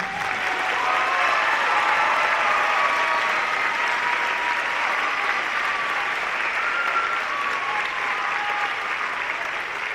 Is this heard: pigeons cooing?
no